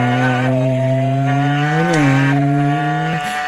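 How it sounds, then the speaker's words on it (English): A chainsaw or power saw heard outdoors at night drones steadily and loudly for a few seconds, its pitch dipping briefly as it bogs down, alone with no talk. "Sounds like a saw."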